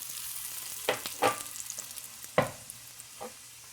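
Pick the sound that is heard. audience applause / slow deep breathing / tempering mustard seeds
tempering mustard seeds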